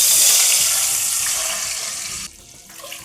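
Water pours steadily into a pan, about one and a half cups for cooking semolina, a loud, close gush that weakens and cuts off near the end.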